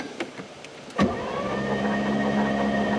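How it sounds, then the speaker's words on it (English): A car engine with a suspected rod knock, flat cam or bad lifters is cranked over and catches, rising into a steady close idle hum after a brief sharp start. "Crank her over."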